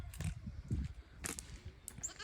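Several female goats bleat in short, overlapping calls in a barn, fairly faint with some rustling around them.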